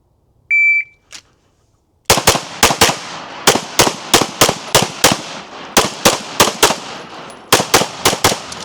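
Pistol shots at a shooting range crack out in a rapid series of loud, close reports in uneven bursts, with a short electronic beep before the first shot and no talk.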